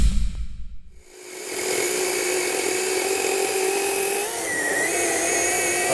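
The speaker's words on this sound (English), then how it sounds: "I've never had a battery powered chainsaw that could do that." Battery-powered chainsaw cutting through wood, a steady high whine running continuously and loud after a brief start, with a slight pitch shift near the end as the cut finishes.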